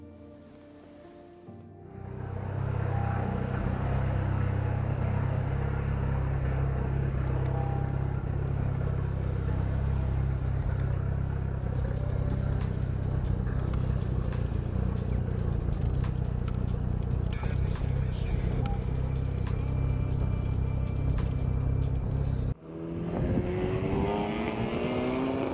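A 505 bhp Honda Civic FK2 on a road test, its engine droning loud and steady as it accelerates and cruises, with a brief cut near the end before the engine resumes.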